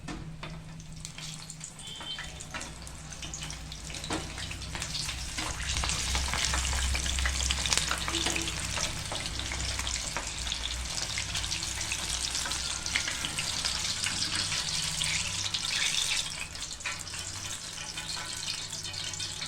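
Chillies frying in hot oil for a Gujarati mini undhiyu, a steady, fairly soft sizzle with faint stirring that continues throughout with no talking.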